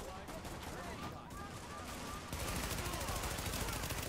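Steady, dense gunfire in The Division shooter game, rapid automatic bursts that grow louder partway through, with a voice faintly mixed in.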